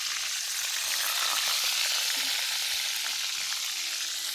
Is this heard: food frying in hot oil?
yes